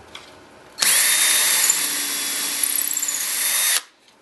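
A power drill boring a 1/4 inch hole in wood runs steadily for about three seconds, starting abruptly and stopping cleanly, close and loud with a slight pitch rise as it spins up.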